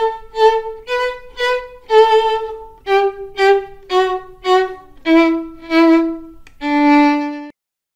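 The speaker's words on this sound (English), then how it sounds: "V is for violin." A violin plays a short melody of about a dozen bowed notes in clear, evenly spaced phrases that descend toward a final held low note. It is loud and close, solo, with no speech.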